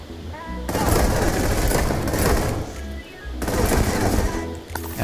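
Rapid automatic gunfire from the Regulator weapon in the game Starfield, two sustained loud bursts separated by a short pause, with game sound around it and no speech.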